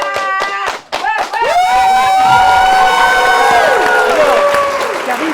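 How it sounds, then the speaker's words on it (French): A television studio audience cheers and applauds loudly, with shouts and whoops rising over the clapping, after a few sharp rhythmic claps at the start. "Vous pouvez l'applaudir."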